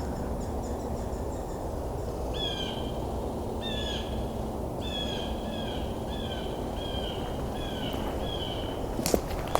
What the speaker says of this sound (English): Blue jays are quite talkative today